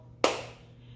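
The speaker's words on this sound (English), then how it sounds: "So, that's clap one." A single sharp hand clap, close and crisp, followed by a short fading room echo over a faint low hum.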